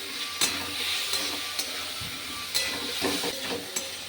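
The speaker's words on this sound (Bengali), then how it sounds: "মশলাটাকে খুব ভালো করে কষিয়ে নিতে হবে।" Spice paste masala for a rohu fish curry fries in hot oil, a steady close sizzle with occasional soft stirring scrapes and clicks, no voices.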